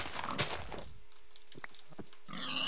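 Minecraft pig grunting in short, separate snorts amid quiet game ambience, with a low steady tone and a burst of louder noise at the start and end.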